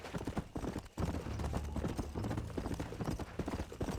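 A horse gallops in the video game Red Dead Redemption, its rapid clip-clop hoofbeats close and steady for a few seconds with no pause.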